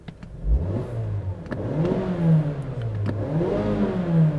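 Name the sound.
Mazda CX-5 2.5 liter Skyactiv-G engine revving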